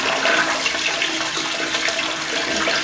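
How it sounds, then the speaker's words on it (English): A dirty hotel toilet with a cracked bowl flushes, a loud, close, continuous rush of water that lasts the whole stretch with no talking. "5 gallon water wasting flush. Yeah, a crappy flush at that"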